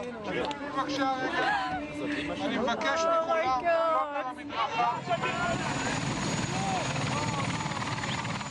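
A helicopter carrying released hostages flies over Ramat Gan in Tel Aviv, its steady rotor drone loud and continuous beneath lively crowd voices and chatter throughout.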